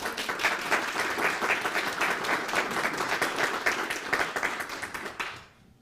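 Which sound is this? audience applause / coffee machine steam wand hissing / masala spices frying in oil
audience applause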